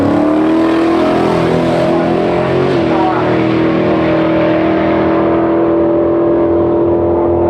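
A VN Commodore drag car with a twin-turbo LS engine roars loud and close at a drag and drive raceway, a sustained high-revving drone with a brief pitch dip midway before it carries on and fades slightly.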